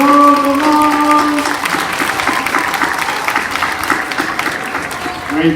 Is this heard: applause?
yes